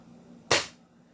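A single sharp crack from a VSR-11 airsoft sniper rifle, one close shot that snaps out of near-quiet and decays over a quarter second.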